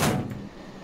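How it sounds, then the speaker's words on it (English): Metro train doors thud shut in an Amsterdam Noord/Zuidlijn metro simulator game, a single loud, broad close at the start that fades quickly into a quiet cabin hum. "so I'm going to close the doors now"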